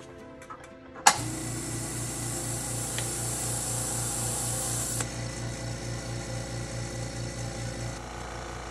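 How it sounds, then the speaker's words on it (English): A Makita MAC100Q air compressor kicks on with a sharp start and then runs steadily, filling its tank. A rhythmic, pulsing motor chug continues close and alone for the rest of the clip. "So I've just fired it up. You can hear it airing up."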